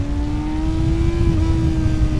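A BMW M 1000 XR motorcycle engine revs hard at high pitch around 8000 rpm, a steady, loud, close whine holding near the top of its range.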